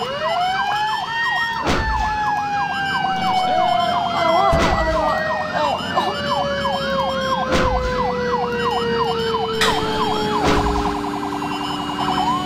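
An ambulance siren in the emergency-services video game Emergency 4, a loud wailing yelp cycling rapidly and continuously over traffic rumble, with periodic sharp clicks punctuating it throughout.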